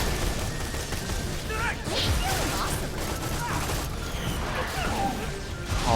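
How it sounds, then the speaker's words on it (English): An enemy in the Borderlands 2 Tiny Tina's Assault on Dragon Keep DLC fires fireworks, a busy spread of whooshes, crackling bursts and thuds layered over game noise, repeating irregularly across the stretch. "He's shooting fireworks."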